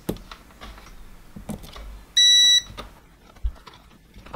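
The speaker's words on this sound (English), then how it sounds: "when I test this by the switch here, we get a nice beep" Electrical continuity tester beeping on a connected cable while repairing a baby bottle warmer; a single steady beep of about half a second, clear and close, among faint handling noise.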